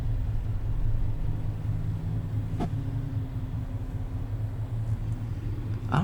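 Tire road noise inside a 2021 Chevrolet Silverado 1500 LT Trailboss on aggressive tires, a steady low rumble and drone heard from the cabin while driving, with a couple of faint clicks.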